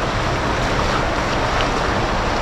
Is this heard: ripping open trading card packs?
no